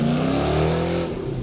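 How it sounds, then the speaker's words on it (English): A Chevrolet Corvette Stingray drives past close by. Its engine note holds loud and steady, then drops slightly as the car goes by. "Check out this Corvette coming."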